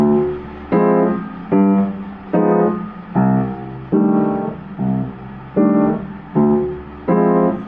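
Nine rich jazz chord voicings for a minor one chord on keys, struck one after another at an even pace, each ringing and fading before the next.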